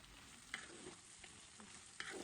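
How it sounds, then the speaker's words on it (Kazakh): Cabbage frying and being stirred in a pan, with a steady soft sizzle, a few sharper scraping stirs and occasional clinks close by. "капустаны салып, 5-7 минут көлемінде қуырып алыңыздар"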